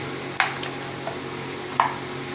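Spice paste is worked together with mustard oil for a vegetarian mock-mutton curry, giving a few close, soft squelching and scraping strokes at uneven intervals against a quiet background.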